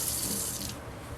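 Tap water running into a kitchen sink for a quick rinse during meal prep, a brief, quiet, even rush of water with no voices.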